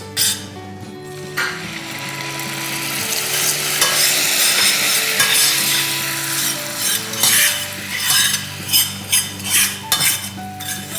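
A caramelizing mixture is stirred in a pan for caramelized bananas. A spoon scrapes and clinks rhythmically against the pan over a continuous loud sizzle, and music plays softly in the background.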